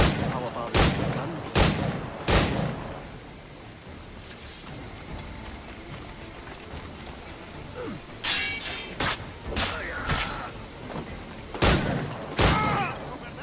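Bursts of gunfire in Assassin's Creed IV Black Flag, sharp loud shots at irregular intervals, a few widely spaced early on and then a rapid cluster with scattered follow-up blasts, over a rumbling battle background.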